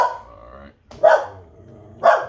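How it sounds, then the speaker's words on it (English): Ruby, a dog, barks in the background while trees are cut, with two sharp, loud barks about a second apart following a lower, drawn-out growling note. "We got Ruby barking in the background."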